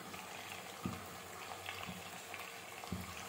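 Chicken fries and cooks with spices in a pan, giving a faint, steady sizzle with a few soft pops and crackles scattered through it and no talking.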